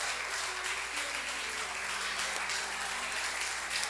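A church congregation applauds steadily and densely, a continuous wash of many hands clapping at an even level throughout, with a faint hum beneath.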